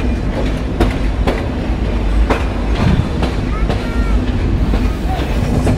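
Rupsha Express passenger train pulling out of Bheramara railway station in Bangladesh, loud continuous rumble with rhythmic wheel clacks over rail joints, heard from on board.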